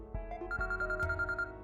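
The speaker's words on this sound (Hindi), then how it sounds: "मेरा फोन बज रहा है" A mobile phone rings in a home during a family conversation: a repeating electronic ringtone melody of bright, evenly spaced tones, close and clear, with no talk over it.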